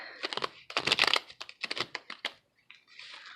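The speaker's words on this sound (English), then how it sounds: "One more shuffle, then we'll cut and we'll read." A tarot deck being shuffled by hand, with quick crisp riffling and snapping card bursts, close and fairly loud, followed by a short soft rustle, with no talking.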